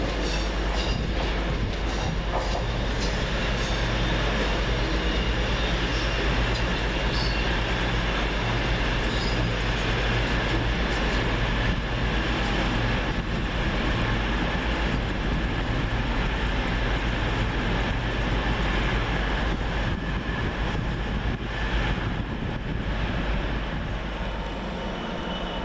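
Trains at Reading railway station, including a cross-country service arriving on the far platform, roll through loudly and continuously, with heavy rumbling wheels and clattering rail joints filling the whole stretch.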